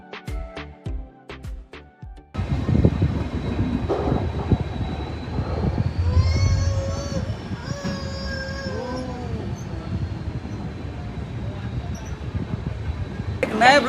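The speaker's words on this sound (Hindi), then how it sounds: "मडगांव ये रेलवे स्टेशन है, आपको दिख रहा होगा।" Trains rumble through Madgaon railway station in Goa, a low steady rolling roar with faint squealing tones, preceded by a few seconds of clattering platform noise; someone talks over parts of it.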